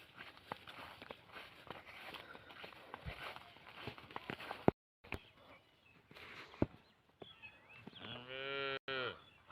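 Cattle on a farm low outdoors, with one loud, drawn-out moo near the end, and footsteps and scattered knocks earlier.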